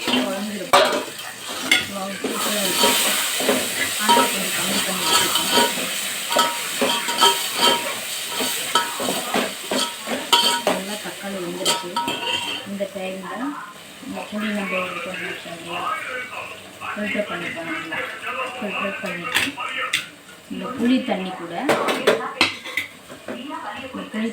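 Tomatoes sauté in a pan for fish curry with a soft steady sizzle and occasional scraping stirs, while a person talks over the cooking throughout.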